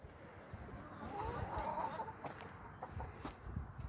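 Chickens cluck and murmur inside a backyard coop on a small eighth-acre homestead, a steady close chorus of soft clucks with occasional louder squawks and rustling.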